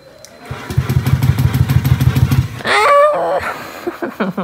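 An electric starter cranks a fuel-injected motorcycle fitted with a modified backfire exhaust in a rapid, steady churn. The engine then catches with a loud roar, followed by a few sharp popping bursts.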